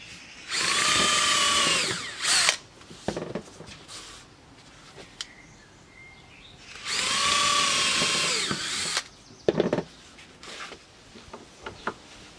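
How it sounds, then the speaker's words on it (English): A power drill whirs through two drilling bursts of about two seconds each into laminate and wood for a museum display rail, separated by handling clatter and knocks. "And then I drill them."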